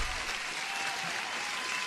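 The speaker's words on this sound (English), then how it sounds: "let me give you an applause" Applause plays during a live day-trading stream as a brief, even wash of clapping with no breaks, steady in level throughout.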